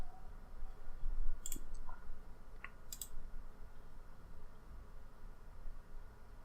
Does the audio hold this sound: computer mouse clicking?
yes